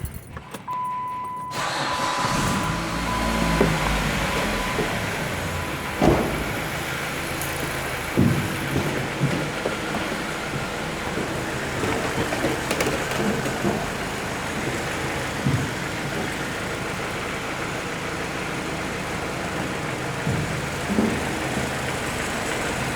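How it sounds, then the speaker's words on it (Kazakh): A Dodge Avenger car under diagnosis in Aktau is started, with a short crank and catch before it settles into a steady idle, while small clicks and metallic rattles sound over the running engine. "Бәрін қостым, енді көлігімізді қосайын"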